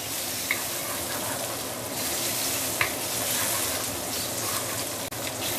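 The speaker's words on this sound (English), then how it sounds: "Stir fry a bit, saute a bit" Shiitake mushrooms sizzle and crackle steadily in a hot pan while being stir-fried, a close, continuous hiss with occasional clinks of the utensil.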